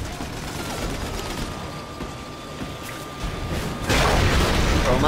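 Gunfire in The Amazing Spider-Man 2 video game: a steady rattle of shots with low booms under a constant background, growing louder and denser toward the end.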